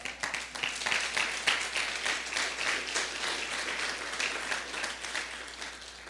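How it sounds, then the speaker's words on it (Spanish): Church congregation applauding together, a dense, steady crowd clapping that fills the clip and carries on without pause. "Es para que le dé un aplauso al Señor."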